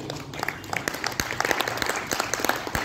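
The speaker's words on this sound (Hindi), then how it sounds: "ताली बजाओ जोरदार" An Arya Samaj Vedic bhajan gathering in Hisar breaks into applause, a moderately loud spell of uneven clapping with distinct individual claps standing out from the crowd.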